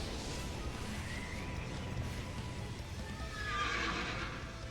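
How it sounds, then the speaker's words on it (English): A horse whinnies in the video game Soul Hackers 2, a rising neigh heard over dense game music and ambience, with a stronger cry near the end. "E tem um cavalo"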